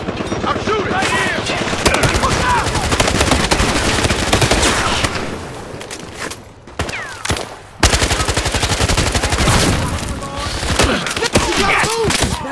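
Dense, loud automatic gunfire from the video game Battlefield: Hardline, bursts rattling almost continuously with a brief lull near the middle, while voices shout over the shooting.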